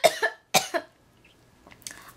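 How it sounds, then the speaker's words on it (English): A woman coughs two pairs of sharp, close coughs, then falls quiet briefly before a soft breath or murmur. "I needed to cough so bad."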